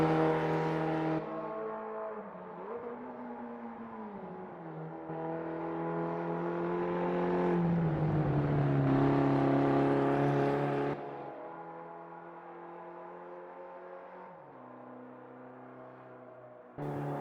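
Race car engine in the Automobilista 2 racing game, a small sports car with a rear wing, droning steadily with rising and falling revs, gear shifts and smooth acceleration across the lap, loud and alone.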